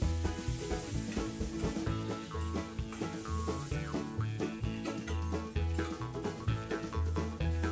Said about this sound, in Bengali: এবারে কুচনো পেঁয়াজটা দিয়ে দিচ্ছি